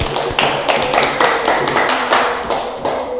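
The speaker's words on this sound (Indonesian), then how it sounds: "Untuk kelompok 1 kita beri tepuk tangan terlebih dahulu." Classmates in a teacher-training classroom clap for the first group, a loose burst of hand claps and taps, close and fairly loud, with a few sharper thumps standing out.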